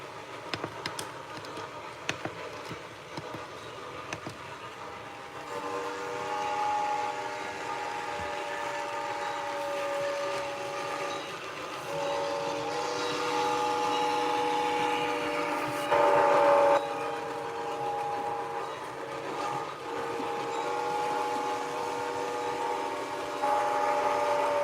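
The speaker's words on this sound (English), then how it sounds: "get a better view of the trains coming through" Model trains running through a layout, a freight train rolling past with a steady rumble and rising clatter, sustained whistle-like tones layered on top, moderately loud and without talk.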